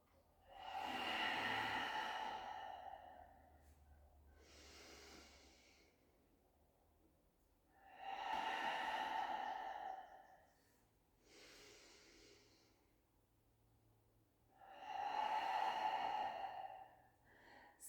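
Deep, slow yoga breaths cycle through the whole clip: three long, loud inhales, each followed by a softer, airy exhale, close to the microphone in a quiet room with no speech.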